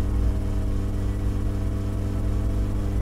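In My Summer Car, a car engine drones at high speed with a steady, buzzing, harmonic hum and no pauses. It stays constant and fairly loud.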